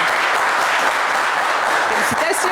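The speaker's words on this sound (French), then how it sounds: "Et ça s'applaudit bien fort." A television game show studio audience applauds a finalist, loud dense clapping that holds steady, with a few voices and cheers rising near the end.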